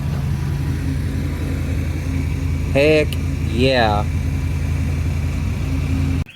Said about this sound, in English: We got this old C Series Travelette running